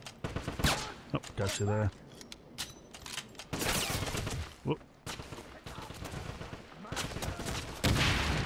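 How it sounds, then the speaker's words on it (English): Gunfire from a gun in the Wolfenstein video game, several loud sharp shots and bursts scattered across the moment amid other game effects, with someone talking briefly over them. "it doesn't matter where I shoot them, they die with one shot with this gun"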